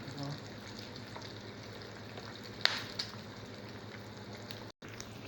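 Eggs fry in oil over reduced heat, giving a faint continuous sizzle with a couple of brief clinks.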